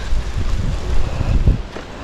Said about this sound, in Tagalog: Kasi mahangin, sobrang mahangin.